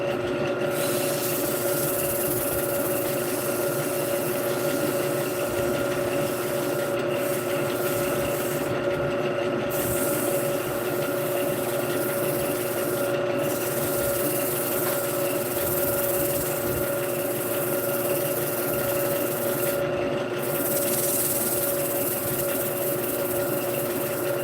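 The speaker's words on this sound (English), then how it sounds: "Let's sand it." Sanding a large wooden bowl on a spinning lathe produces a continuous loud whirring hum with steady abrasive rubbing, interrupted by a few brief breaks, no talking.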